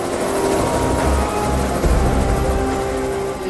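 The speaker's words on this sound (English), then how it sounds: "As Tim heads for the casualty, pilot John flies the helicopter away from the hazardous cliffs." A rescue helicopter flies away from hazardous sea cliffs, its steady rotor and turbine roar filling the air continuously at a fairly loud, even level with no voices.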